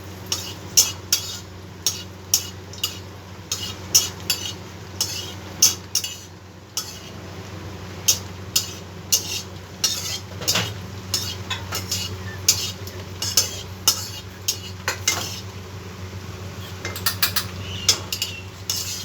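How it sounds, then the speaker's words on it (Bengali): Dried red chillies fry in mustard oil in a kadai as a metal spatula stirs them, giving sharp repeated scraping clinks at an uneven pace over a low, faint sizzle. "শুকনো লঙ্কাটাকে ভালো করে ভেজে নিই।"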